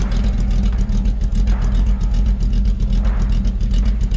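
A 1981 Chevy C10 Stepside with a 350 V8, Comp cam and Edelbrock carburetor idles close by, a loud, lumpy low rumble with a steady choppy pulse and no voices.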